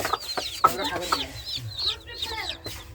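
A hen and newly hatched chicks at home cluck and peep in short repeated calls, close and fairly loud, with some faint background voice mixed in.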